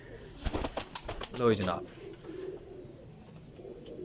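Champion high-flying pigeons of the Sialkoti golden kind coo softly in a loft, with a brief burst of wing flapping and rustling early on, while someone speaks briefly over them.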